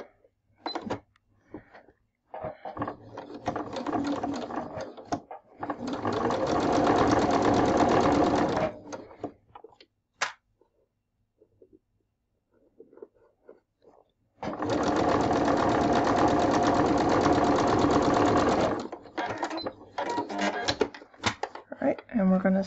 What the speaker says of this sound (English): Gonna stay stitch this one the other way at 1/8 of an inch also.